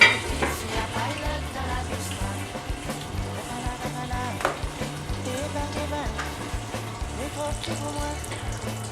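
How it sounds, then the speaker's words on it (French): Smoked pork and aubergine cook in a pan with a soft bubbling sizzle and intermittent stirring clatter, fairly faint and close, with a low background hum throughout. "Si elle n'est pas assez cuite, vous recouvrez et laissez mijoter"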